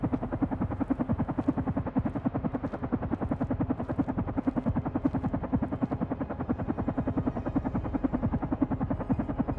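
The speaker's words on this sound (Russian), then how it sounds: "Вертолет." A helicopter in the video game Carrion thumps steadily throughout, its rotor blades chopping in a fast, even pulse with a loud, close, droning roar, heard alone without talking.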